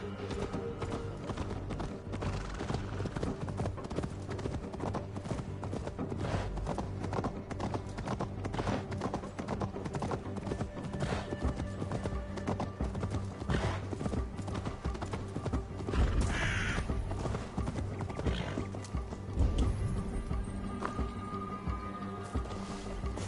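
Horse hooves clip-clop steadily in the Assassin's Creed video game, a brisk continuous rhythmic beat with an occasional whinny, loud and close over ambient game sound.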